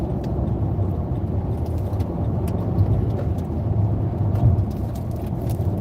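A truck drives just ahead of a small car on a road trip, kicking up debris at the car. The scene is a steady, loud road and engine rumble with tire roar heard from inside the small car.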